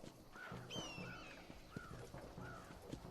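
Rhythmic clip-clop of a horse's hooves in the Western video game Red Dead Redemption, evenly spaced light hoofbeats at a moderate pace, fairly quiet, with a faint whinny-like tone early on.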